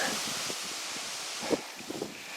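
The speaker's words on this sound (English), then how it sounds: "At least it's windy" Wind gusting through the leaves of an old box elder tree, a steady soft rustle with a few slightly louder rushes near the end and no voices.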